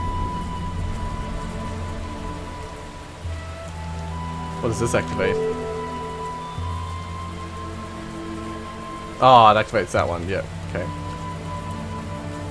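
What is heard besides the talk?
rain in the desert in video game Xing: The Land Beyond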